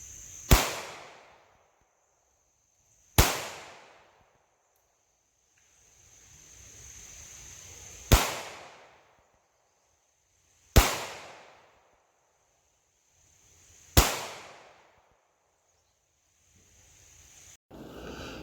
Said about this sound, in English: So first is 5 rounds offhand at 25 yards.